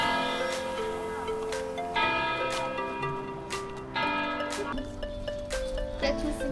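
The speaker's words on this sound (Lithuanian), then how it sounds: "Skamba varpai, kviečia mus į lovas." Church bells ring out in overlapping, repeated strikes, their tones ringing and fading, moderately distant and steady.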